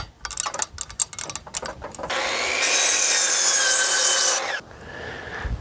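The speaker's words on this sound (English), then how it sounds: "we'll bring our scrap lumber over to the miter saw" A miter saw cuts scrap lumber: a few knocks and handling taps come first, then a loud, sustained whining cut of about two seconds that stops abruptly and leaves a quieter tail.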